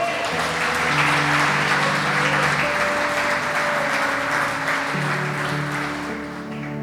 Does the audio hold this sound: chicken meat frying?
no